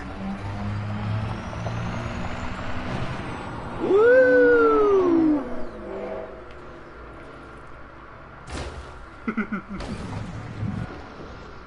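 Engine of a ground vehicle in the space game Elite Dangerous driving and revving, a loud rising-and-falling whine mid-way over a rumbling drone, with a voice whooping and brief clicks after.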